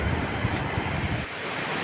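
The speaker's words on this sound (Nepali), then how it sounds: "यो देखिएको चाहिँ ठोस्ने खोला" Thosne Khola river rushing in a landslide-hit hillside settlement, a loud, steady roar of turbulent water mixed with wind buffeting the microphone.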